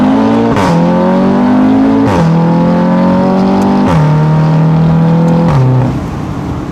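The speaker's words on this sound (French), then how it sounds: "Attends, joli bruit. Je te jure, on dirait un RS3 le bruit. On dirait un 5 cylindres." Convertible car with a modified exhaust and a five-cylinder, RS3-like tone, revving hard through repeated gear shifts; four rising pulls, each cut by a shift, loud and close before the note drops away at the end.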